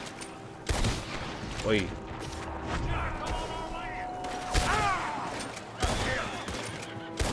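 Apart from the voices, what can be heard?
gunfire in the video game Red Dead Redemption 2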